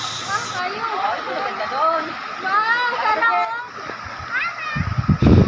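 Water splashes at the foot of a hidden waterfall in Gapasan, Magsaysay, Occidental Mindoro, with children's voices chattering over the rush and a louder burst of splashing near the end.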